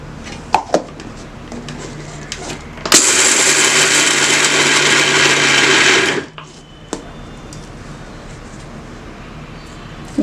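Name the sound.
blender grinding peanuts for homemade peanut butter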